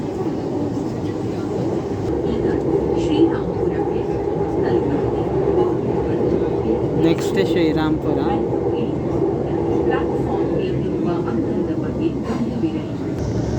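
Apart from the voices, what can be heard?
metro train arriving at Srirampura station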